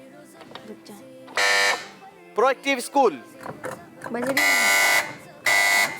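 Team buzzers on a televised quiz show are tested in a studio, giving several loud, sustained electronic buzzes in separate bursts while a host talks between them.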